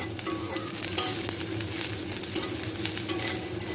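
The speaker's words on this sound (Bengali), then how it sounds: "পেঁয়াজটা বাদামি করে ভেজে নিচ্ছি" Onions browning in a frying pan during preparation of a spiced fish curry, a steady close sizzle with light stirring scrapes and occasional crackles throughout, no voices.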